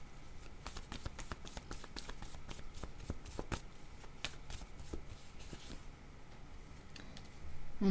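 Tarot cards are shuffled in the hands, giving a rapid run of soft, crisp riffling flicks and slaps close by. It is quiet and plays alone, with no talk.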